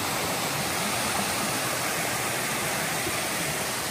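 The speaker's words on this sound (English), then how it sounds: "Nice water rushing by." A mountain stream rushes by in a steady, dense, hissing roar, constant and fairly close, with no voices.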